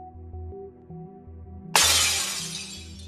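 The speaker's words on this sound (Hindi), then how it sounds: "ये शीशा क्यों तोड़ दिया?" A glass pane shatters suddenly partway through, one loud crash that trails off into tinkling and scattering shards over a quiet indoor background hum.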